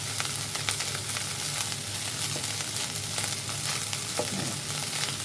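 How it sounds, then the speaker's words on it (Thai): Seafood fried rice sizzles and crackles in a hot wok as it is stir-fried, with a dense, steady frying hiss and scattered scraping stirs, close and continuous with no talking. "กดกดกดข้าวลงกระทะแล้วก็ ตัก คนขึ้นมา ให้มันเด้งๆฟูๆลูก"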